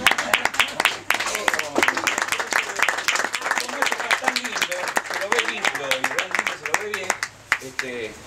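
An audience claps in a quick, uneven rhythm at a curanto meal gathering, while people talk over the clapping throughout.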